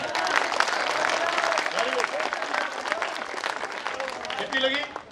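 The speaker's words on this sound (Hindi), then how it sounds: "तालियां।" At a school event, an audience claps in a loud, sustained burst, with children's voices calling out over the applause before it fades at the end.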